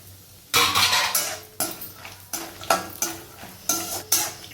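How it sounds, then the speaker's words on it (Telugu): Almonds and dry fruits roasting in ghee for laddoo, stirred in a pan with a spoon: repeated scraping strokes about twice a second over a soft sizzle, close and clear with no talk. "వీటిల్ని కూడా కొంచెం వేయించుకుందాం."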